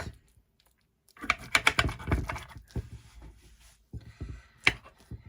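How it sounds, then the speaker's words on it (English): A utensil cuts through a baked lasagna in its dish, making a burst of crisp clicks and scrapes, then a few scattered taps and one sharp knock near the end. "now we are just going to cut through it"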